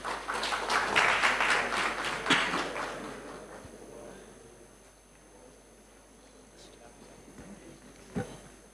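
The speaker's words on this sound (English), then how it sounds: "And we welcome him with a round of applause." Audience applause greets the chairman at a morning show event, dense clapping for about three seconds that thins and fades out, leaving quiet room noise with a few faint knocks.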